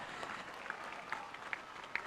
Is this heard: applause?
yes